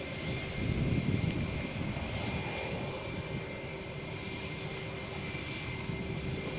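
British Airways Euroflyer jet airliner at Malaga Airport on a stormy morning, a steady distant roar of engines that swells slightly early on and then holds as a broad, even rumble.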